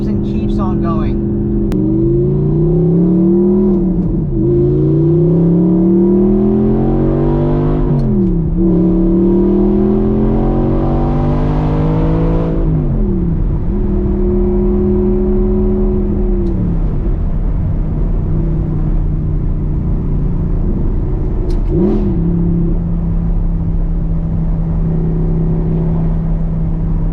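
A 2014 Audi R8 with a 4.2 V8 engine and gated manual revs hard several times, climbing and dropping in pitch, then settles into a loud, steady idle rumble.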